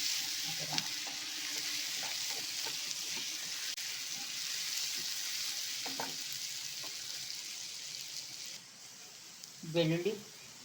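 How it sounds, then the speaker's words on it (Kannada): Ginger garlic paste frying on low flame for a prawn fry, a soft continuous sizzle with occasional stirring scrapes, while a person talks faintly over it and a louder voice comes in near the end. "ಸ್ವಲ್ಪ ಹಸಿ ವಾಸನೆ ಹೋಗೋವರೆಗೂ ಫ್ರೈ ಮಾಡ್ಕೊಳ್ಳೋಣ. ಫ್ಲೇಮು ಲೋಲೇ ಇಡಿ."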